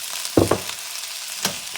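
Frozen peas tipped into sizzling fried rice in a hot pan, a couple of sharp clattering hits followed by a soft steady sizzle and another small clatter.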